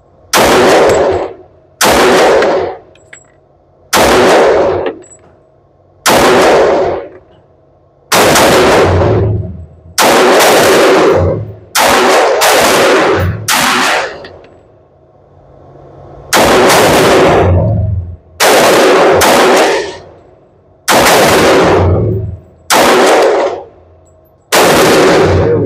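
Loud, sharp pistol shots from a Remington 1911 R1 Limited, fired singly and in quick pairs and bursts at a steady pace, with short pauses between strings of fire.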